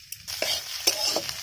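Cauliflower pieces frying in a pan and being stirred, with a steady sizzle and a few distinct scraping strokes of the spoon, close up and alone.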